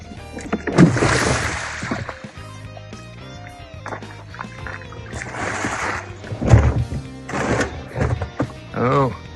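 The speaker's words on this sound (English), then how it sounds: "Let's empty this bucket and see what we got." A bucket of soaking water holding shape-shifter root burls is emptied, with close, splashing, pouring bursts and sloshes between stretches of talk.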